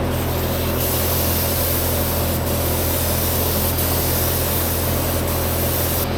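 A spray gun lays a third coat of paint in a truck engine bay, a loud, continuous close-up hiss with a few brief breaks where the trigger releases, no talking over it.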